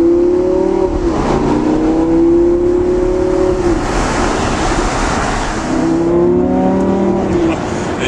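A Lamborghini LP570 Superleggera accelerates hard, its engine note climbing in two long rising sweeps with a pause between, loud and close over road and wind rush.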